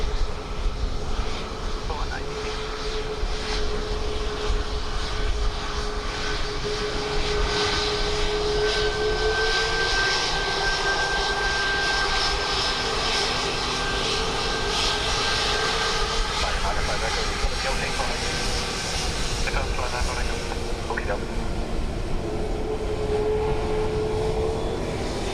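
An airplane landing at Dublin Airport on a windy day sends a continuous loud engine roar with a slowly shifting whine throughout, while voices talk over it.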